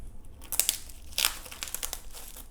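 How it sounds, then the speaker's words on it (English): Plastic wrapping crinkles and rustles as it is pulled off a Chuwi Hi13 laptop, several quick close crackling bursts in a quiet room. "We've got some wrapping."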